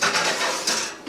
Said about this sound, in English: So let's just go put that in the oven here.